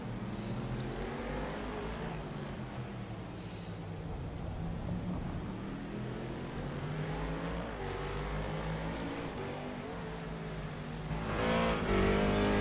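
A race car's engine drones steadily from on board during a DPSS circuit race, holding a constant roar and rising slightly in pitch near the end as it accelerates.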